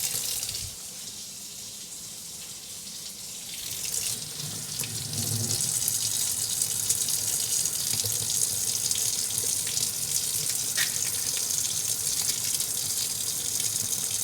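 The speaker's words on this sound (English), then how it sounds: "I don't normally wash my onions after peeling them" Tap water runs steadily into a sink over freshly peeled onions being rinsed, a continuous close splashing gush that swells louder partway through and carries on with no talking.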